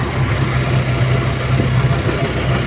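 A motorcycle engine idles in a steady, low, throbbing rumble, close and loud, with no change in pace and no voices over it.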